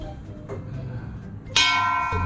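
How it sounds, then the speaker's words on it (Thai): A temple bell at Wat Phuet Udom in Pathum Thani is struck once with a mallet, ringing out with a bright, sustained metallic tone after a quieter stretch of ambient noise. "นี่มีระฆังให้ตีด้วยขาตีทีหนึ่ง"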